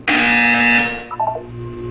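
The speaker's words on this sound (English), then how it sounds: "You will hear a buzzer." A loud electronic buzzer from the Portal 2 video game, a single sustained harsh tone lasting under a second, then fading into a lower hum and faint tonal blips.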